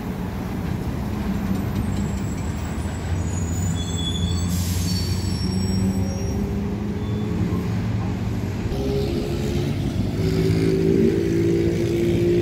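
A Volksbus city bus pulls into the Satélite Iris bus terminal, a steady loud engine rumble with a drawn-out high brake squeal running through it, close by and continuous with no talking.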